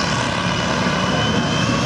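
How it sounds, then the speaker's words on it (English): A Stormer armoured vehicle's Perkins 86354 diesel engine of about 230 horsepower drones steadily and loudly at close range at a military vehicle show, as one dense, continuous rumble with no talk. "Stormer has a diesel engine, Perkins 86354 diesel, putting out about 230 horsepower."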